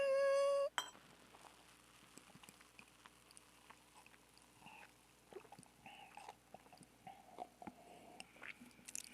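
Glasses clink in a toast over fried chicken and beer, one bright sharp clink at the start, followed by quiet chewing, light clatter and small mouth noises close up.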